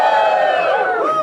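A comedy club audience at a standup show lets out a loud, brief cheer with whoops, a crowd of many voices rising together close up and fading slightly toward the end.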